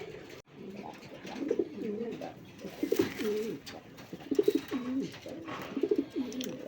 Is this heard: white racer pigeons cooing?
yes